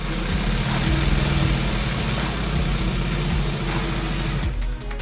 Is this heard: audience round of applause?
no